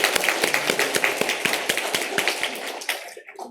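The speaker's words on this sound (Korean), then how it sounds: "힘내시라고 우리 박수로 격려하겠습니다." A church congregation clapping together in encouragement during a Sunday service, a brisk run of sharp, fairly regular claps that quickly fades out after about three seconds.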